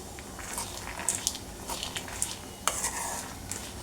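Ingredients for a peanut chutney fry in a pan, a quiet steady sizzle broken by scattered clicks and scrapes of stirring, heard close without speech.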